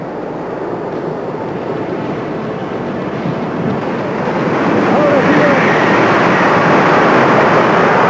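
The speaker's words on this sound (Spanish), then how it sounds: "El agua embalsada sale por dos válvulas de chorro hueco, con caudales de salida de hasta 118 y 19 metros cúbicos respectivamente." Water jets out at great pressure from two hollow-jet valves at a dam on the Majes irrigation project near the Colca Canyon, forming a steady, roaring broadband rush that grows louder partway through.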